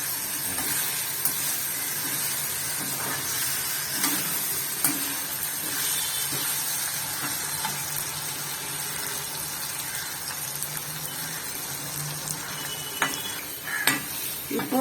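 Potato pieces sautéing in a pan while barnyard millet kichadi is cooked, a steady soft sizzle with occasional stirring scrapes and light clinks of utensils, close and continuous with no talk.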